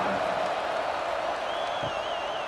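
A football stadium crowd at an Ohio State Buckeyes at Washington Huskies game makes a steady, dense roar of distant murmuring as a team sets up to kick off, with no break in the wash of noise.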